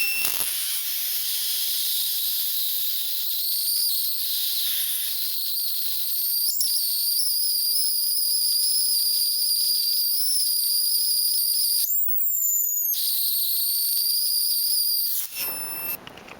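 High-voltage discharge inside an ordinary light bulb with a grounded screen, a steady loud hiss with a high whistling tone lasting about fifteen seconds, briefly dropping out near the end before cutting off.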